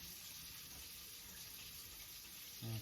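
Tap water runs steadily over ham hocks in a kitchen sink, a faint, even hiss that holds for the whole stretch, with a brief low thump near the end.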